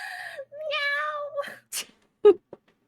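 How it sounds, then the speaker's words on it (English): A house cat meows several times, a long drawn-out call followed by a couple of shorter, sharper mews, close and clear with brief pauses between them. "Cozy has started to meow at me when they call me"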